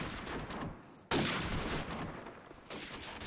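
Rapid gunfire in a first-person shooter video game, dense crackling bursts separated by a brief gap, loud and close with no talk.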